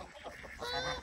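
Geese or similar water birds at a lake give a brief burst of loud, close honking calls.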